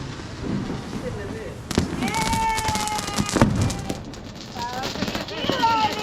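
Diwali sky shot fireworks go off in a sharp crackling burst, followed by further pops and crackles as voices talk excitedly nearby.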